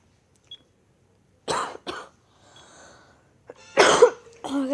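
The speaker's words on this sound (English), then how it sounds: "As I said, I might cough," A person coughing a few times in short harsh bursts, close to the microphone, with a throat-clearing rasp and quiet breathing between the coughs.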